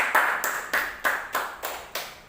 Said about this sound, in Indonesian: Tepuk tangan dulu lebih dahulu dong.